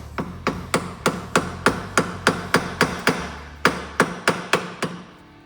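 A screwdriver is hammered into the oil filter of a 1995 Porsche 993, with about eighteen sharp metallic strikes in a steady rhythm and one brief pause, loud and close with no talking.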